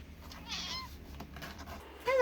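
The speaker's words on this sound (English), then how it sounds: "kitten." A kitten gives a few short, thin meows, one near the start and a sharper one at the end, over faint background noise.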